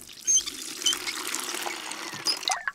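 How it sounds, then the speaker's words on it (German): Cartoon water pours into a bucket in a short trickling, splashing stream with a few bright squeaky accents, heard alone without talk. "Erst brauche ich Wasser."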